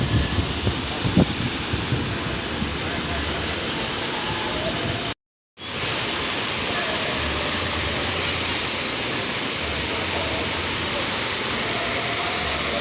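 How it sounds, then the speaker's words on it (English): Steady rushing river water fills the scene with a constant hiss, broken by a brief silent gap partway through, with some wind buffeting. "We're at a river."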